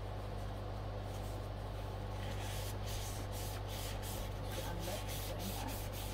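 WD-40 aerosol being sprayed onto a record player, faint short hissing bursts repeating in an irregular rhythm over a steady low background hum, quiet and close.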